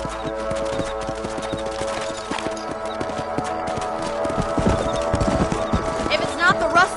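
Steady clip-clop of horse hooves trotting in Red Dead Redemption, with game music and a voice talking over it and a brief neigh.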